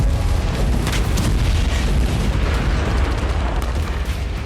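A thermobaric bomb blast in the Torske area of Ukraine: a loud, deep, sustained rumbling roar that rolls on for several seconds without a distinct single crack.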